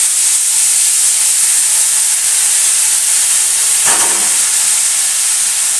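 Dima greens, picked and chopped, hit a hot pan and sizzle in a loud, steady hiss that holds for several seconds with a small extra crackle midway and no voices.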